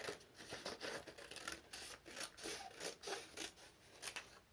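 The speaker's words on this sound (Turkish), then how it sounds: "Makasımızla çizdiğimiz çizgilerden kesiyoruz." Scissors snipping through paper along pencil-drawn lines for a paper chain craft, a quiet run of short crisp cuts repeating in an uneven rhythm, close up, with no talking.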